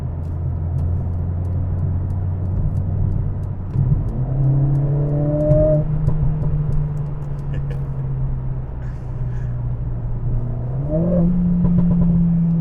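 A Mercedes CLA45 S engine with an aftermarket exhaust drones steadily on a country road, then revs up hard twice with a loud, throaty exhaust note, each rise climbing in pitch before settling into a higher cruise.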